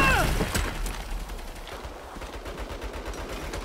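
Turret gunfire in the Saints Row video game: a dense, continuous clatter of rapid shots at a moderate distance, steady and unbroken for several seconds, blended with noisy combat ambience.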